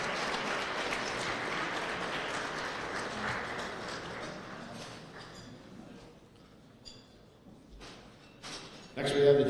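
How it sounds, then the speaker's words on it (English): Applause from an audience at a college basketball awards banquet starts full and gradually thins out to scattered claps before a voice begins speaking at the end. "you can clap, it's okay"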